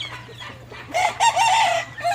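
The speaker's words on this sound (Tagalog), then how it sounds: "Yan ang isang manok natin." A chicken clucks and squawks nearby in a few short bursts, loud and distinct over a low steady hum.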